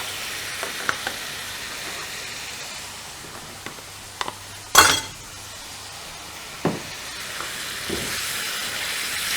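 Liver fries quietly in a pan as tomatoes are added, bringing a brief louder sizzle and a few clinks of utensil against the pan over a soft continuous frying hiss.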